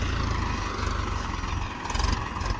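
A steady, low engine idle from an Arjun tractor, a continuous throbbing rumble with an even rhythm that stays close and fairly loud throughout, with no talk.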